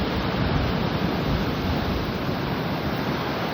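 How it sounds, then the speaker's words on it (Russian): Sea waves crash and roar continuously on the Georgian coast, a loud, steady wash of surf with wind noise blowing across the microphone. "Это те волны, которые достают вот до машины."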